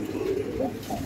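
A puffed-up male pigeon coos in a loft, a soft, low, throaty rolling call that is close by and repeated in quick succession.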